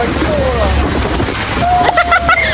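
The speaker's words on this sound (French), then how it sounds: "Oh là là, il y a des vagues." Waves slosh and splash against a tour boat at Niagara Falls, a steady rush of water with louder bursts near the end, while people talk and exclaim over it.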